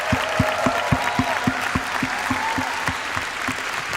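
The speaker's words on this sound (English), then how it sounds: "They can hear your applause." Parents applaud at a school winter concert for kindergarten to second graders, a steady wash of clapping with a regular thumping pulse running underneath, moderately loud throughout.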